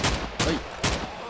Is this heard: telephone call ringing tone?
no